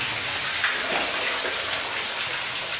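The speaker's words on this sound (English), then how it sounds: "there's a crack up here where water is just spilling in from somewhere up above" Water spills steadily through a crack in the rock inside the old Clipper Mine near Surprise Lake, a continuous close splashing and trickling wash with no voices.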